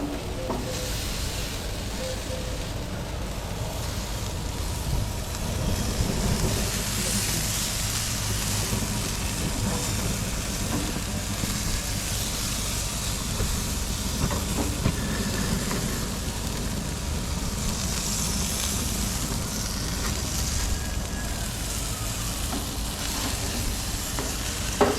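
Green chili bratburgers sizzle on a grill in a constant, close, even crackling hiss that runs unbroken throughout with no talk.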